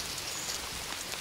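Steady rain falls outdoors, a dense, even hiss of drops on surfaces that stays constant throughout, with no voices.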